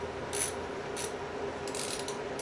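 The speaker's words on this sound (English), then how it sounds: "So I'm going to use my little 1/4 drive." A small quarter-inch drive ratchet backs off an adjuster bolt during a 48RE transmission assembly. Quiet, close ratcheting clicks come in a few short bursts against a steady background hum.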